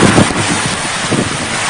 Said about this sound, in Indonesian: Kuatnya angin memporak-porandakan atap-atap rumah.